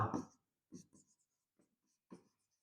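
Chalk or marker writing out a formula on a classroom board, heard as short scratchy strokes in separate bursts with gaps between them, close and fairly quiet, no talking.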